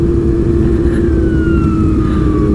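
Big motorcycles at a motorcycle festival in Lampung rev nearby in a loud, continuous engine roar, with a thin whine sliding downward over the top.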